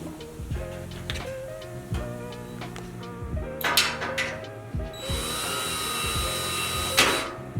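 A power drill whirs in short bursts between clicks and ticks of handling, then runs in a sustained high whine near the end.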